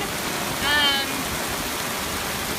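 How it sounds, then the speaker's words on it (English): Heavy rain pours down onto a flooded city street, a dense, steady hiss of falling water that stays loud and even throughout, with a brief higher sound rising over it near the start. "right now it's coming down pretty heavily"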